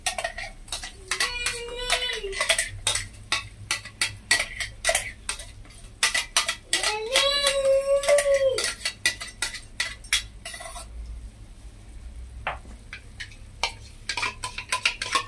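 Spoon scraping and tapping in a four-year-old nonstick kadai as ground tomatoes are mixed in, repeated clinks and scrapes alongside someone talking over much of it.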